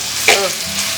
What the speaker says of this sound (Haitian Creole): les oignons frits dans graisse, ça tellement bon